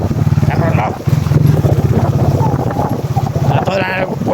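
A motorcycle engine runs steadily and loudly as it is ridden, with wind buffeting the microphone and a voice talking over the drone.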